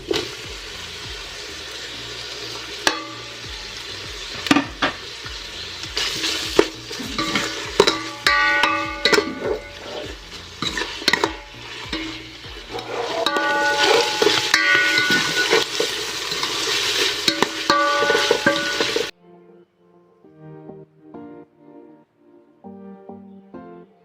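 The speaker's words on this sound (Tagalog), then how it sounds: "Yan, lagay na natin ang ating chicken." Chicken added to a pot and sautéed for chicken macaroni soup (sopas): loud sizzling and frying with repeated stirring and clanking of a utensil, then an abrupt drop to quieter, sparse cooking sounds near the end.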